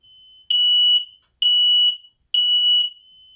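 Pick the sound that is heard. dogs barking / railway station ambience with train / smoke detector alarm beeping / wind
smoke detector alarm beeping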